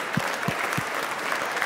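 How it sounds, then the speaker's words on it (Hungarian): Audience applause at a Saturday church service, a steady broadband patter of clapping with a few low thumps, moderately loud and continuous for the short stretch. "Nagyon nagy tapsot kérünk neki."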